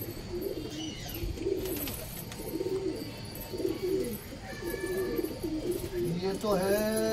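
Pigeons of a fancy paired breed coo in soft repeated low phrases, with a few chirps and background noise, while a voice talks nearby throughout.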